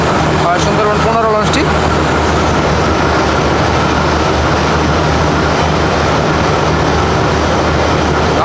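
Passenger launches Parabat 18 and Sundarban 15 maneuver in reverse gear, their engines a loud, steady, close rumble mixed with wind noise. A brief warbling tonal sound comes near the start.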